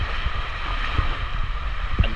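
Wind blows across a North Carolina beach during surf fishing. A constant rushing roar buffets the microphone, with a few faint low thumps and no talk.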